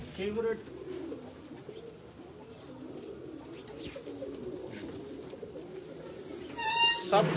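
Pigeons coo softly in a breeder's loft in Faisalabad, a low murmuring rhythm running throughout beneath someone talking nearby, with a brighter call near the end.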